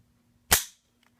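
The trigger of a VZ-58 Sporter rifle breaks with a single sharp, loud snap close up, followed by a couple of tiny faint clicks in near silence.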